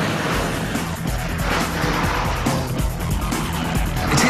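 A turbocharged Vauxhall VX220 sports car is driven hard on a fast lap, its engine a loud continuous roar with rising and falling revs and gear changes, heard up close and steady throughout.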